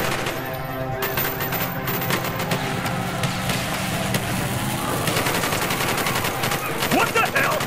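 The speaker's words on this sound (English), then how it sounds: "Bowman, Carlos, lay down covering fire." Call of Duty Black Ops street fight in the Operation 40 mission: sustained bursts of automatic rifle and machine-gun fire, loud and dense, with voices calling out beneath the shooting.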